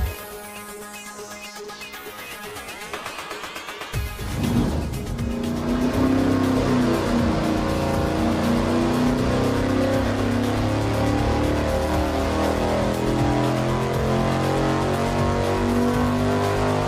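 Engine fitted with a 268/278 camshaft running on a dyno: quiet idle, then a loud roar from about four seconds holding a steady, heavy drone with harmonic buzz to the end.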